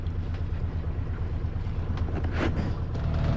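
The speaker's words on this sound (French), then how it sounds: "on a un appui moteur à 1500 tours qui nous permet d'avancer à 4 nœuds" Sailboat motoring at 1500 rpm with both sails up in Toulon bay, making about 4 knots: a steady low engine drone under wind and water wash, continuous and even throughout.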